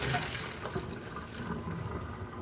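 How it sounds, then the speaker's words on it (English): Cooked noodles for Vietnamese beef stew drain through a strainer in a kitchen sink, giving a short, soft rush of pouring water with light splashing close by. "I'm gonna bring this to my sink and just strain it."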